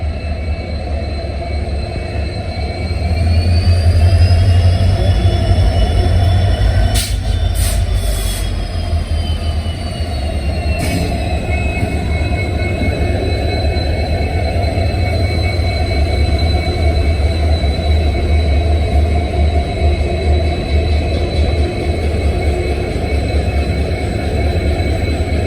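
A WDP3A diesel locomotive hauls a train with a constant loud rumble of engine and rolling wheels, thin squealing tones sliding above it and a few brief sharp clicks partway through.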